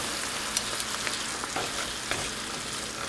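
Pre-cooked barbecue pork stir-fried in a pan over lowered heat sizzles steadily and fairly loud, with occasional light clicks and scrapes from stirring.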